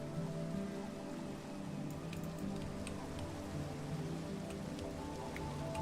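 Rain falls steadily in Minecraft, a soft even hiss dotted with faint ticking drops and a low held musical drone underneath, constant from start to end.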